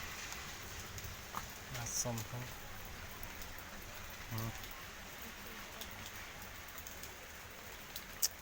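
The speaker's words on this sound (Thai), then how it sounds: "ฝนตกพี่น้อง" Steady rain falls throughout in a rural Thai setting, a soft even patter with a few louder drips, while someone talks briefly over it.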